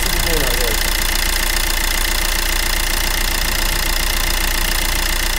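Opel Astra H engine idling with a timing chain fault, a loud steady mechanical drone and rattle recorded up close with the microphone near the engine, continuous throughout.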